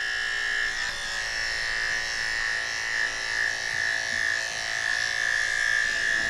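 Electric clippers fitted with a 10 blade shave the belly of a Shih Tzu, Havanese and Yorkie mix dog, giving a steady close buzzing hum that runs without a break and shifts slightly as the blade moves through the hair.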